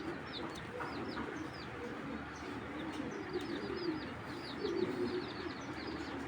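A racing pigeon coos softly and repeatedly, with low rolling calls amid faint chirps from other birds, all fairly quiet and distant-sounding.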